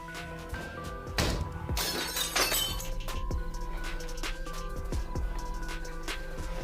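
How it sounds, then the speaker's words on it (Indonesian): Window glass is smashed in a loud shattering crash, with sharp breaking bursts followed by scattered clinks and tinkles of falling shards over a steady background hum. "lalu dia menaikinya dan memecahkan kaca itu"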